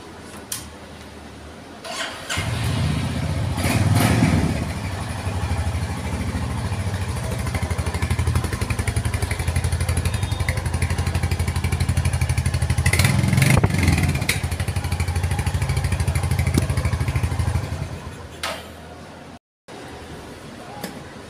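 A motorcycle engine starts and settles into a steady, loud idle that runs for about fifteen seconds with clattering bursts before cutting off.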